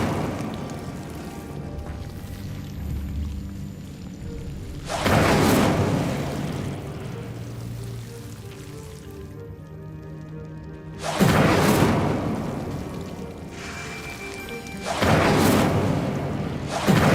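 Fire spells (Incendio) cast in the Hogwarts Legacy video game, heard as three loud booming whooshes spaced several seconds apart over a quieter ambient hum.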